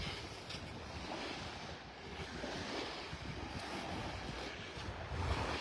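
Breezy wind and breaking surf on Vanderbilt Beach in North Naples, Florida, a steady full roar of waves with gusty wind buffeting the microphone throughout, no voices.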